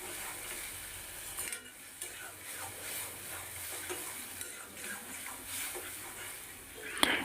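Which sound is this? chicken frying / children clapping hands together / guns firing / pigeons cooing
chicken frying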